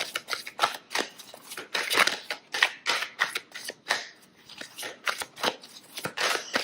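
Tarot cards are shuffled by hand at close range, giving repeated crisp riffling bursts in an irregular rhythm with no talking.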